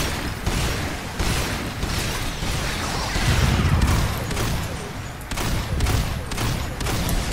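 Covering gunfire in an Earth Defense Force battle, loud repeated bursts and booms cracking out in uneven clusters over a dense rumbling background, with sharp shots punctuating throughout and no talk.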